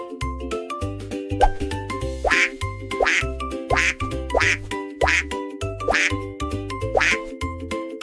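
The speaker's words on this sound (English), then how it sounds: "The duck is complete, flapping its wings and quacking happily." A cartoon duck quacks happily in a children's drawing lesson, repeating about once a second, loud and close over a bouncy musical backing with plopping sounds.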